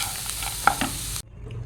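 A grated carrot and onion mixture is stirred in a hot pan, giving a soft sizzle with a couple of scraping strokes before it cuts off abruptly near the end.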